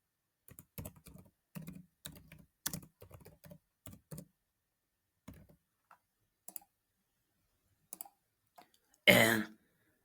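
Scattered bursts of computer keyboard typing while a name is entered, crisp close key clicks in short clusters separated by pauses, ending with a louder mouse-like click, and no talking.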